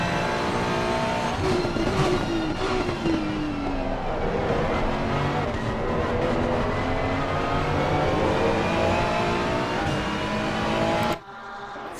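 Race car engines scream and climb through the gears up the short straight in a racing video game, several cars layered at close range with rising pitch sweeps, loud and continuous before cutting off abruptly near the end.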